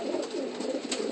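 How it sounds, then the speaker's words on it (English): A Dick LaCroix racing pigeon coos softly at close range in a loft, a low, continuous rolling burble with gentle pulses and no talking. "It's a Dick LaCroix pigeon."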